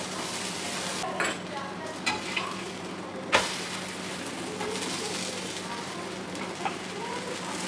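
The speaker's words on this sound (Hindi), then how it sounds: "ये देखिए, हमारा परांठा सिक रहा है" A stuffed pizza paratha frying on a hot griddle gives a steady, even sizzle with a few scattered clicks and taps, close and unbroken for the whole stretch.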